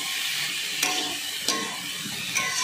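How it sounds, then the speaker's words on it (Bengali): Vegetables and oats fry in a pan while being stirred, with a soft continuous sizzle broken by three sharp scraping clicks of the spoon against the pan. "এবার সবগুলো ভালো করে নেড়ে নিচ্ছি।"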